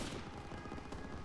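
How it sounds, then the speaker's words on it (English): Call of Duty: WW2 battle gunfire with launcher shots, dense and continuous, rumbling, loud and close, with no talking. "with the launcher that I grabbed earlier, I'm just gonna spam a couple shots down there"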